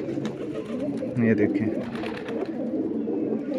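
Larayo Wala pigeons coo in low, murmuring tones close by, mixed with someone talking over the birds.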